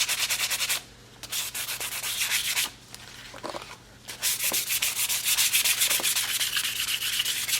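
Sandpaper rubbing back and forth over a cured collage resin layer, a steady close scratchy rasp with a few brief pauses, no voices.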